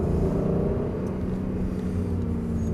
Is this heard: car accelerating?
yes